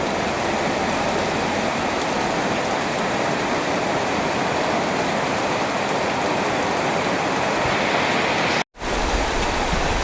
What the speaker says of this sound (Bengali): বৃষ্টি তুমি জোরে আসো